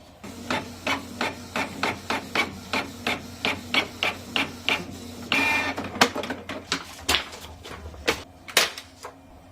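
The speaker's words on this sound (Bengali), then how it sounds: "যে স্ক্রিপ্টটা আমি ল্যাপটপে তৈরি করলাম সেটা এবার প্রিন্ট আউটে দেবো।" A printer runs off a script, giving a rapid series of regular mechanical clacks, then a short whir followed by a few sharper, uneven knocks. Close and fairly quiet, with no voices.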